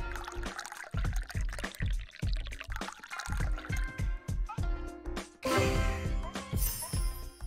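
Green tea pours in a video game as a run of liquid splashes and gurgles, with rhythmic thumping underneath and a brighter, fuller pouring stretch toward the end.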